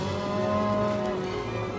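A cow moos in a long, sustained, loud low call set against a steady background from the 1999 film Lake Placid, in a lake-shore scene with a giant crocodile.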